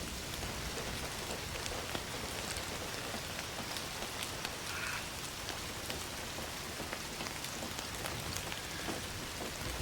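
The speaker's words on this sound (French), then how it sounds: "J'aime beaucoup la pluie." Dense, steady rainfall patters on surfaces in the video game Indiana Jones and the Great Circle, a continuous wash of drops with no voices, soft and even throughout.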